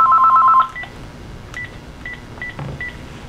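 A telephone gives a brief burst of rapid electronic dial-style tones, then several short, evenly spaced high chirps. It sounds moderately close in an otherwise quiet room during a talk on Bible teaching.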